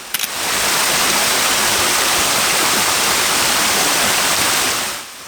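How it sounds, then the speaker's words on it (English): A winter stream in a shallow gyll cascading over defined rock steps makes a loud, dense, continuous roar of rushing water, close and unbroken until it fades out at the end. "the stream tightens into a shallow gyll and drops over more defined rock steps"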